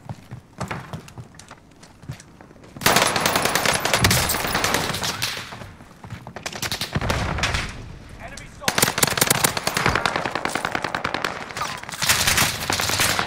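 Video game gunfire in a quads match on the Rebirth map: dense bursts of rapid automatic fire in several loud stretches, broken by quieter gaps, with player voice chat mixed in.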